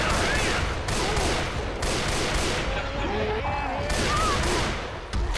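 Rapid gunfire in the video game Left 4 Dead, a dense, loud burst of shots filling the whole stretch, with shouting voices over it.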